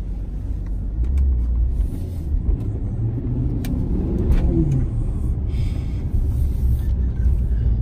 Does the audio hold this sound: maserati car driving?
yes